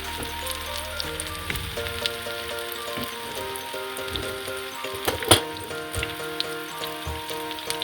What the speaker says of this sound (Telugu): మీడియం ఫ్లేమ్లో వేగనివ్వాలండి